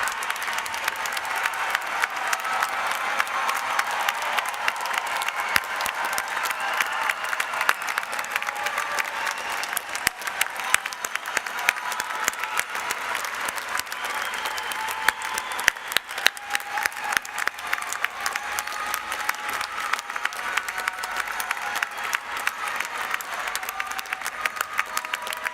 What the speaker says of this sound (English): Please give a round of applause to these wonderful graduates and to everyone who supported them through law school.